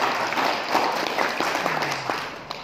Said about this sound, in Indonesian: tepuk tangan yang luar biasa untuk kita UTP juara ini